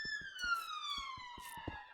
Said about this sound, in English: apologies again for the sirens in the background